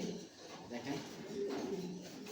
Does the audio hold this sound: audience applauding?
no